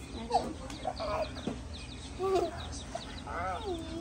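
Newborn baby chicks held in someone's hands give a run of high, repeated peeping chirps close by, some short and sharp, others rising and falling.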